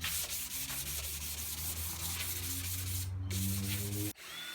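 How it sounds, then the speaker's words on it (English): Sandpaper finishing a trimmed edge of pre-glued melamine edge strip, heard as a close, steady rubbing scrape in quick repeated strokes. A steady hum runs underneath, and the sound stops abruptly near the end. "finished it with some sandpaper"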